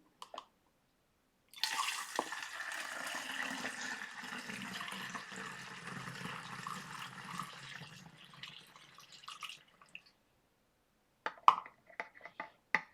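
African black soap poured through a funnel at home, a steady close liquid stream running about eight seconds before stopping, followed by a few sharp clicks and taps.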